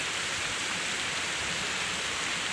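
Matnar waterfall near Chitrakote, Jagdalpur, with a check dam, heard as a steady broadband rush of falling water, constant and fairly distant, with no voices.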